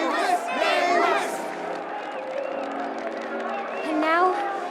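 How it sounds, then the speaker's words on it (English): Video game crowd in Honkai: Star Rail's Penacony cheering and chanting together, a dense, loud swell of many voices that rises and falls across the clip, with a few individual voices standing out. "Let us gift our applause and cheers to these brave and dauntless Nameless."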